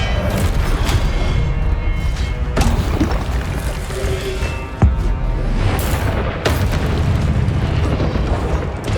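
The Confringo explosive blast spell in Hogwarts Legacy produces loud, continuous booming and crackling explosions with several sharp impacts and sudden bursts throughout.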